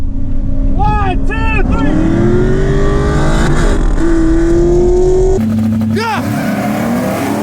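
A 2018 Ford Mustang GT engine revs and accelerates loudly up close, with rising whines and gear shifts, while someone shouts over it.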